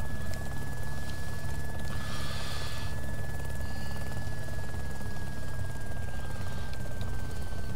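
A helicopter in DayZ Epoch sends out a steady, heavy engine and rotor drone with a thin constant whine riding on top. The sound carries on without a break, and no one speaks.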